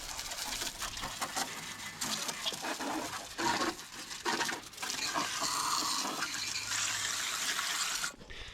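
Water sprays from a hose onto a Case tractor being washed on a farm, a steady loud hiss with brief dips and splashes, cutting off near the end.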